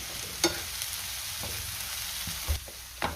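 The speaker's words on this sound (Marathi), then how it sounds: "मी आले लसणाची पेस्टसुद्धा परतून घेणार आहे" Ginger garlic paste sautéing in a hot pan for an egg masala, a steady sizzle with a few sharp scrapes and clinks of a spoon stirring against the metal.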